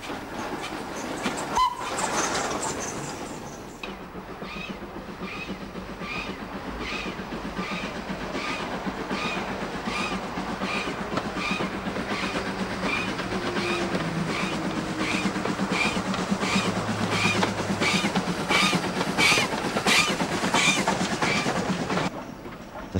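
The steam locomotive Marquis pulls out of Bridgnorth station on the Severn Valley Railway, a brief whistle-like burst followed by steady rhythmic chuffing and rolling train noise that continues evenly for about twenty seconds.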